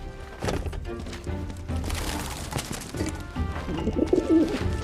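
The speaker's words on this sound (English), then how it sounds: "Stupid bird." In the video game Final Fantasy VII Remake, a bird coos softly amid a busy game soundscape of background music and ambient noise, the cooing faint and somewhat masked.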